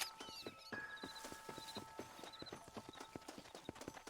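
Horse hooves clip-clop at a steady, even walking pace in Red Dead Redemption 2, each hoofbeat crisp and close, over a sustained tonal hum and faint high chirps.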